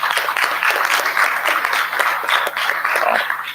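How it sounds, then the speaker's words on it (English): Audience applause at an IETF meeting session, a steady, dense wash of clapping from many hands that holds at an even level throughout. "suggest a round of applause"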